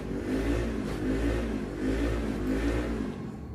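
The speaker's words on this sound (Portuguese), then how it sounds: "A moto." A motorcycle engine drones steadily nearby, swelling and easing in rough waves as it passes, with no voices.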